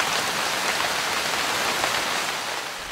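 Steady rain drums on a tent in a state park at dawn, a dense, even hiss of drops close by with no pauses and no voices.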